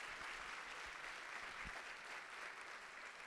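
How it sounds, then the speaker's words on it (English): Audience applause at the Brooklyn State of the Borough address, a steady, dense round of clapping that holds evenly from start to finish with no talk over it. "round of applause for community boards."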